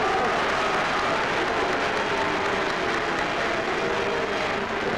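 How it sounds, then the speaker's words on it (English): A large crowd at a Paris press conference for Khrushchev applauds steadily in a dense, continuous wash of clapping, with booing mixed in. "Focus on a press conference and booing among the clapping for Mr."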